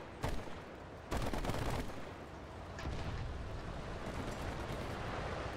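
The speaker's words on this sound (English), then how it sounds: "Stop shooting at me." Gunfire in the War Thunder video game, heavy bursts and booming shots over a dense, rumbling battle din, loud and continuous, with no talk.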